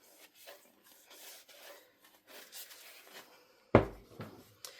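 A work surface being wiped down with rubbing alcohol during a Cricut crafting session: soft, faint rubbing strokes, with one sharp knock near the end.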